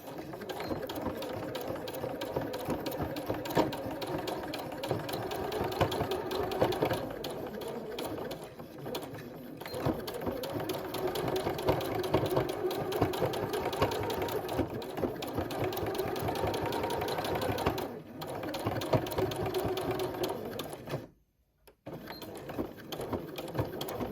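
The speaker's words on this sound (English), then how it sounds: "I'm just using a regular straight stitch, and start off just off the edge, because otherwise you might struggle to sew uphill." A sewing machine runs a straight stitch along coiled fabric rope for a bowl, its rapid mechanical whir and needle clatter close and steady, pausing briefly twice, with a short silent gap near the end.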